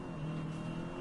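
A car drives in the Saints Row reboot, its engine holding a steady, droning hum with a constant tonal whine, close and unbroken for about a second.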